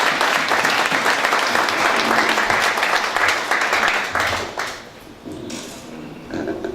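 A crowd claps at a political party's city founding convention, dense and loud for several seconds before thinning out toward the end.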